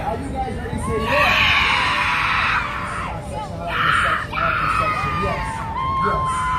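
A crowd at an outdoor street show by the Battery Park waterfront in New York City cheering and shouting in loud bursts, with whoops and high-pitched yells rising and falling.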